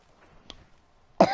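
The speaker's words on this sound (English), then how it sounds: "I've got a cough" After near silence and a faint click, a single sharp cough bursts out close to the mic and ends the brief moment.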